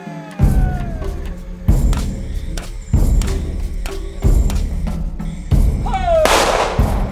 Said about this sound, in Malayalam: ചൂട്ട് പടക്കം